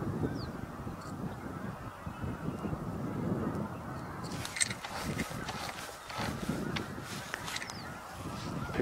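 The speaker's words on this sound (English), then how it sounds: "Pick up in the vocalizations from the snow geese, I think" A large flock of snow geese honks continuously from a distance, a thick layered chorus of calls over a steady wash of outdoor ambience, with some sharper nearer calls breaking through.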